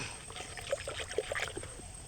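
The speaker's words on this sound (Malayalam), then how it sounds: "ഈ വെള്ളത്തിൽ ഞാൻ കലക്കി. ഇത് നല്ലോണം കലക്കണം." Pesticide being stirred into about 22 litres of water in a container: soft close sloshing and trickling with small splashes, fairly quiet and continuous, with no talk.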